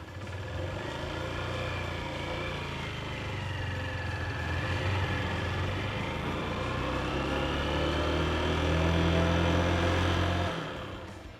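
A motorcycle engine hums steadily, then the clutch eases out at the friction point and the throttle opens, pitch climbing as it pulls away smoothly, fading out at the end.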